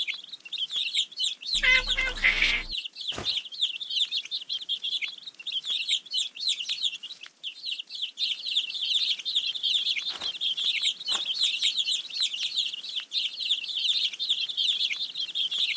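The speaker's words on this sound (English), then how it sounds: "Feed the hungry baby birds with some seeds." Hungry baby birds in a kids' number game chirp in a dense, continuous high-pitched chorus of rapid peeps, interrupted briefly by a short game sound effect near the start.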